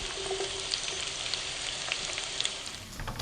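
Chopped Vidalia onion and potatoes fry in a pan with a steady, close sizzle and crackle, broken by small pops throughout, with no talking.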